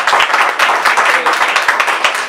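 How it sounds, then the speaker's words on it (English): A crowd gathered for a talk claps after praise for the only African-American woman in the Oklahoma House of Representatives, a loud, close, continuous burst of hand claps with some voices mixed in. "That's clap-worthy."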